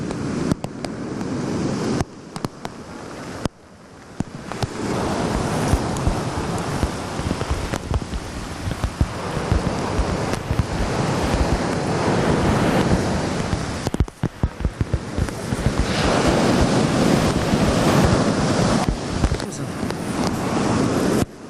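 Sea waves and wind roar at Konyaaltı beach in Antalya during a heavy downpour, a loud, continuous wash of surf and gusting air with bursts of rain-like crackle.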